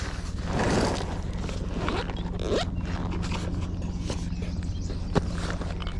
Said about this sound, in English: see what else we got here in the old Ozark Trail bag